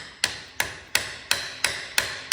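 A hammer taps a homemade tube driver to seat a Speedi Sleeve seal onto the rear hub of a 1970 GMC truck: six crisp, evenly spaced metallic strikes, close and loud, with no talking.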